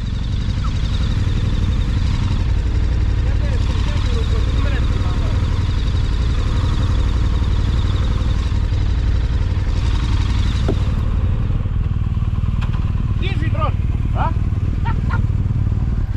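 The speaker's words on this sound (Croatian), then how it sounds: "Ajmo s motorima dole." Motorcycles ride along a lakeside road on a trip between Italy and Switzerland, with a loud, continuous engine drone and wind rumble and a few faint voices in the background.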